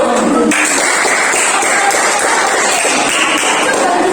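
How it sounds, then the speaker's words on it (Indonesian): A class of school students claps steadily for a few seconds, a dense, even patter of many hands filling the room. "Tepuk tangan dulu."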